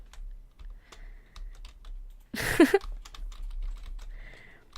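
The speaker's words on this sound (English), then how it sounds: "we can press keys and see what happens" Keys on an alternate keyboard-style controller for a quirky indie game are tapped in scattered soft clicks, with a brief louder rattling burst midway, close and quiet, with no talk.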